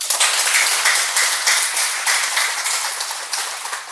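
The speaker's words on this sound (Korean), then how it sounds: "박수 한번 줍시다." An audience at a public lecture breaks into dense, sustained applause, many hands clapping together loudly and evenly before tapering slightly toward the end.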